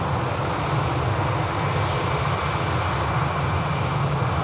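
A KLM Airbus A320neo arriving at Manchester Airport produces a steady, loud jet engine roar, a broad continuous rush that holds evenly throughout with no voices.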